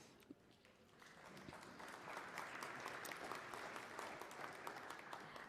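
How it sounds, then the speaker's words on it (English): An audience at an ILO social protection event applauds as a session chair comes up, a sustained wash of clapping that swells after the first second and holds steady without talking. "Let's give him a round of applause as he comes up."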